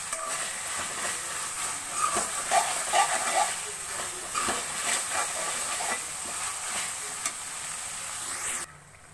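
Tomatoes fry in a pan with a steady close sizzle and hiss. Stirring scrapes and small clatters are scattered through it, and there is no talking.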